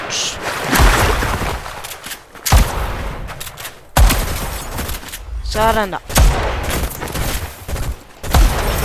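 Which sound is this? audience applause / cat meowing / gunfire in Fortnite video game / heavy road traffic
gunfire in Fortnite video game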